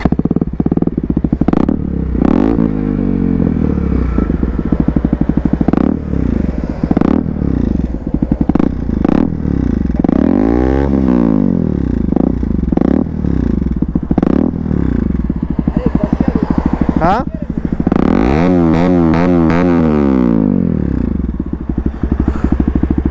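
Several superbikes idling and revving together on a weekend group ride, loud, close exhaust beats with repeated rising and falling throttle blips, including pass-by sweeps, continuous throughout.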